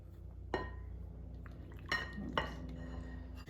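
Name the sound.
stirring a honey mixture in a bowl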